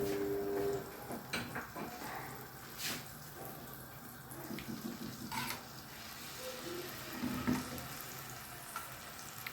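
A big spoonful of garlic fries in hot ghee for Egyptian fatta, making a soft, uneven sizzle close by, broken by occasional light taps and clinks of a spoon against the pot.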